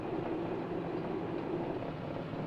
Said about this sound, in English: I'm increasing power to keep the train stretched out